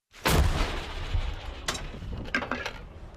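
A single heavy blast from an American-made field howitzer dug into position booms close by, followed by a long rumbling echo and a few faint metallic clanks.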